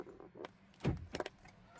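Several short mechanical clicks and clunks come from a car being locked, with a faint whirring and a solid thunk in the middle. The sounds are quiet and brief, with no talk.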